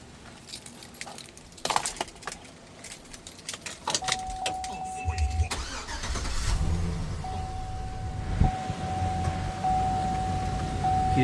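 Keys jangle close by in a Ram SLT pickup truck cab, then the engine cranks and starts, settling into a steady idle with a rising whine.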